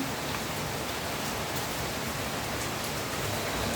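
Heavy rain pours down steadily, a dense, constant hiss with no pauses and no voices.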